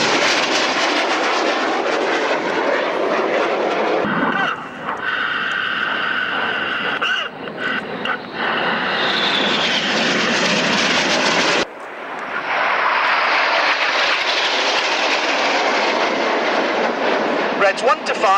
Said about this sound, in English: And right now, we have the synchro pair. Manoeuvring to your left is Red 6, synchro lead, Flight Lieutenant Dave Stobie.